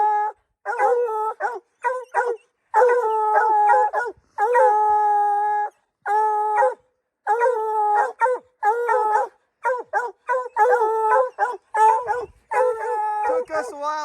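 Hunting hounds bay and howl at a mountain lion treed in snowy Utah backcountry, loud near repeated bawling bursts in uneven rhythm with short gaps between them.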